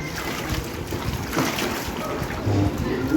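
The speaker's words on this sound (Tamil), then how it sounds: "இதை தண்ணியில் போட்டு ஃபஸ்ட்டு வந்து வெண்டைக்காயை கழுவிடணும்" Okra for vendakai aviyal is washed by hand in water, with close, irregular splashing and sloshing.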